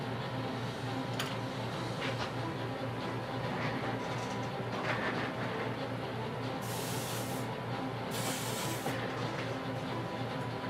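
An airbrush sprays paint onto a Jubilee X-Men model kit at close range. It gives a steady hiss with two stronger bursts near the end, over a constant low hum.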